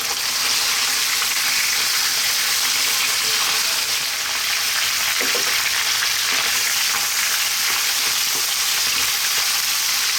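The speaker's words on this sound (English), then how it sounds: "cook our meat for about 5 or 6 minutes on a high heat, just to get it started" Lamb pieces frying in a pan on high heat for an Indian curry, a loud, dense, continuous sizzle and hiss with occasional spatters and stirring scrapes throughout.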